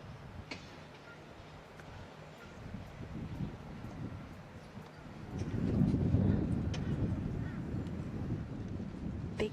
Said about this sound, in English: big gust of wind as Travis lets that last bowl go.